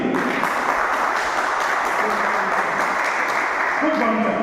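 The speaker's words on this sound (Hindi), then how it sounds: "जोरदार ताली सचिन जी के लिए।" An audience claps for a speaker at a business event, a dense, loud wash of applause that holds steady throughout, with voices mixed in.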